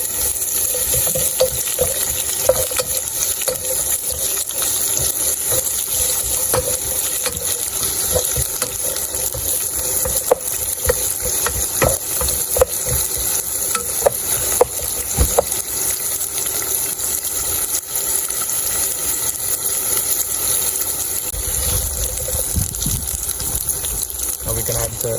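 Pandan leaves and mustard seeds sizzle and crackle steadily in a hot pan for an okra curry as a spoon stirs through them, a loud, dense frying hiss held close.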